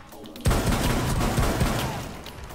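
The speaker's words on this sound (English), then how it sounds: "Go and check that trap and he shot me in the face!" A sudden burst of rapid gunfire in a multiplayer video game, several loud close shots in quick succession that trail off into fading rumble.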